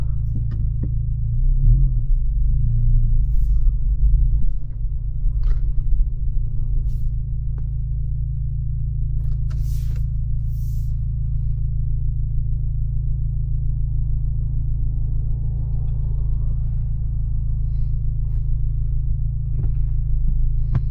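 A 2025 Acura Integra on the move, heard from inside the cabin as a steady low engine and road rumble with a constant hum, and a few faint clicks and knocks over the top.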